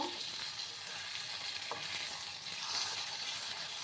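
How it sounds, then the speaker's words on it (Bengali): Fish heads sizzling in hot oil in a pan, a steady close crackle and hiss with occasional stirring and no voices. "ডালটা আমি একটু লাল লাল করে মাছের মাথাগুলো ভেজে নেব"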